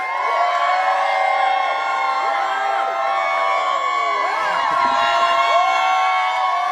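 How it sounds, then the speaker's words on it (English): A crowd at a red carpet unveiling cheering and whooping, a dense wash of many excited voices with overlapping shrieks and rising calls, loud and continuous throughout. "the crowd is going bananas"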